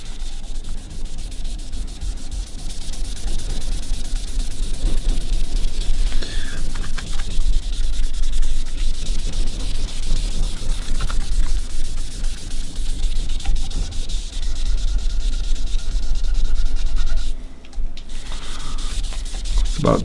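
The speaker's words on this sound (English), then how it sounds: "we can just sand this for 320" A quilted maple carve-top guitar body being sanded by hand with 320 grit paper, a continuous close rasping rub in steady back-and-forth strokes, briefly pausing near the end, no talk.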